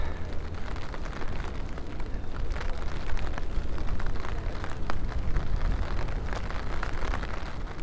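Strong wind roars steadily outdoors on a city street in New York during a winter storm, a dense, continuous rushing that stays loud and unbroken throughout with no talking.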